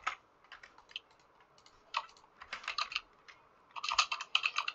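Rapid clattering keystrokes on a computer keyboard during a Minecraft Bedwars game come in irregular bursts, crisp and close, with short pauses between runs of typing and no talk.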